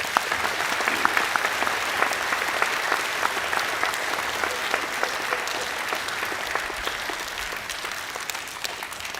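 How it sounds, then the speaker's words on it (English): A school assembly audience applauds for three boys, a steady dense clapping throughout with no one speaking over it. "Could we give these boys a round of applause?"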